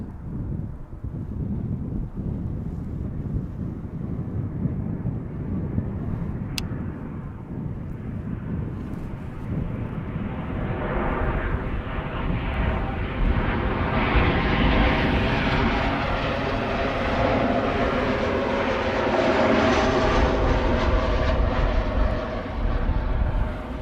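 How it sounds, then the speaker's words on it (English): A LOT airliner arriving from Warsaw at Amsterdam Schiphol, its engine roar building steadily and swelling loudest near the end, with broadband wind rush on the microphone and no talking. "This is lot flight 263 arriving from Warsaw."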